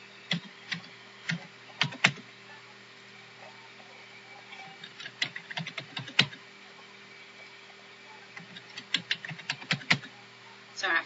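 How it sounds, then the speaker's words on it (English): Quiet, close typing on a computer keyboard in bursts of irregular key clicks with short pauses, set against a faint steady hum. "this is where you'll type in your basic information"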